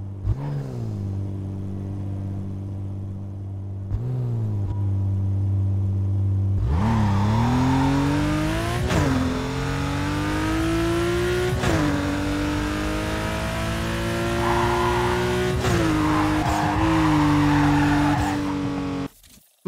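A Porsche 911 S in the video game Need for Speed Carbon idles low, then revs hard and climbs through sustained engine pitch with several gear shifts, loud and close, no talk.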